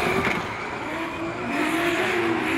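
A D1NZ drift car on the Wellington track during a Pro Championship battle, its engine droning loud and steady with rising tyre squeal as it slides through, heard close, with no talking.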